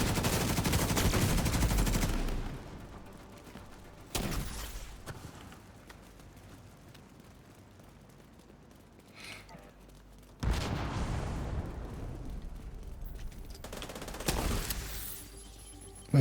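Video game gunfire comes in two loud bursts of rapid shots, at the start and again near the end, with quieter game sounds between them.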